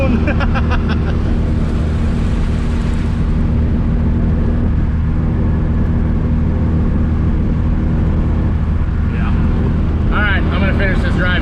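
A bagged 1989 Toyota pickup truck on a drive, its engine and road rumble loud and steady inside the cab for the whole stretch, with someone talking over the noise.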